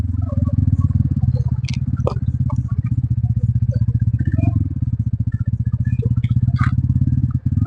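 Motorcycle crossing a narrow bridge over a river, its engine chugging steadily and close throughout with a rhythmic low throb, faint clatter and voices in the background.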